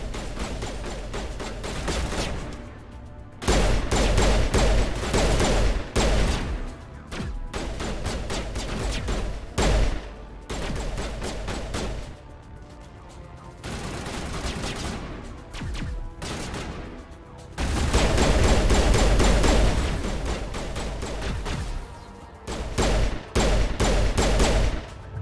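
Weapon gunfire in the video game Mass Effect 1 Legendary Edition: repeated loud bursts of rapid shots in several volleys across the stretch, with quieter gaps of game ambience between them and no talking.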